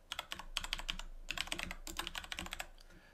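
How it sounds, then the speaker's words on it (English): Fast, steady typing on a computer keyboard as a Terraform command is entered at a command prompt, crisp close key clicks in quick bursts with brief pauses and no talk. "we can then go back down into the command prompt and we can type in terraform apply"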